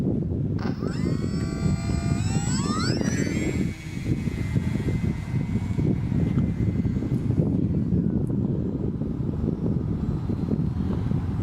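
A homemade model aircraft built from parquet underlay flying outdoors, its motor whining up through rising pitches then holding a steady buzz under constant heavy wind rumble on the microphone.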